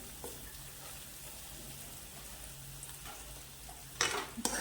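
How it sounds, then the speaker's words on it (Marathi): Ginger and garlic sauté in a pan with a soft, steady sizzle, and a few louder scraping stirs come near the end, close and quiet with no talk. "आपले अद्रक लसूण व्यवस्थित असे परतून घ्यायचे बघा, लसणाचा कच्चापणा जाईपर्यंत आपल्याला।"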